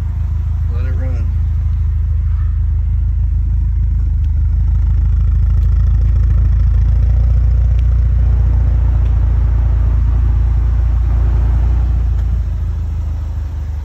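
A car engine idles with a steady, loud low rumble, running close by throughout with a voice faintly over it.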